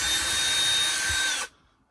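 A power drill whirs steadily while backing screws out of the trim kit around a microwave/convection oven, a continuous close buzzing that cuts off abruptly near the end, leaving near silence.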